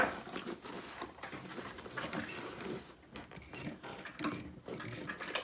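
A sewing machine stitches the side and bottom panels of a handbag, giving a quiet, close, rapid mechanical patter in short bursts with brief pauses between runs.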